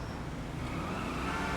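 A Bravado Gauntlet Hellfire muscle car drifts in GTA Online, a continuous engine drone with road noise holding steady at moderate volume for a brief moment.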